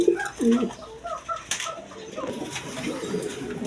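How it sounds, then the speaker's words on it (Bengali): Indian Bombay pigeons coo in low rolling calls, several bursts close by, with a brief sharp knock and general aviary rustle behind. "এখানে একবার ইন্ডিয়ান বোম্বাই অরিজিনাল বোম্বাই কবুতর আছে"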